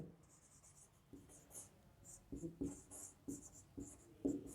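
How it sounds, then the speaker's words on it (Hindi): A pen or marker writes on a board during a political science lecture, giving soft intermittent scratches and taps with a faint hiss. The strokes are quiet and close, and no one speaks. "मैं यहां लिख देता हूं इसमें"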